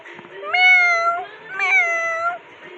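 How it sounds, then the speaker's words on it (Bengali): Two clear, drawn-out meows follow one another, close and fairly loud, with a short pause between them and no talking. "আমাদের ম্যাও বলো ম্যাও বলো বলো"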